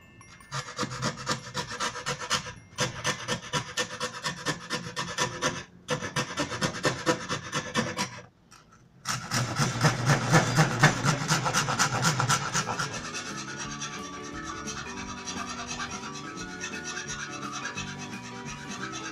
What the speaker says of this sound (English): To refine the edges and achieve the corners, you can use a wood file.